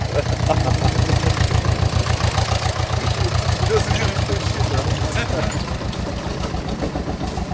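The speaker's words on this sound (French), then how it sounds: "Il y a Jeannot qui arrive avec son tracteur" A tractor engine chugs loudly and steadily nearby during an apricot harvest, its low rhythmic thump continuing throughout with faint voices underneath.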